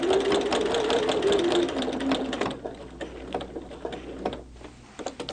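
Sewing machine stitching through a Christmas tree quilt during machine quilting, a steady close mechanical whir with rapid needle ticking that runs fast at first, then slows and turns more intermittent.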